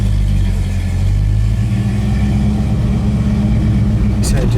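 1969 Plymouth Roadrunner with a manual shifter pulling away, a loud, close engine drone that rises as it accelerates, with a voice talking over it near the end.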